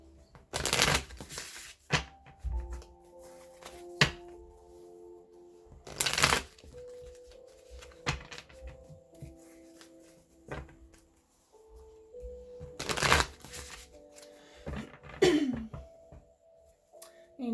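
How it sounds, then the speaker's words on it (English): Green Witch tarot cards are shuffled by hand in three separate bursts of crisp riffling, with quiet handling noises and soft thunks between the bursts. "I'm going to use the Green Witch's Tarot to open up your tarot reading today."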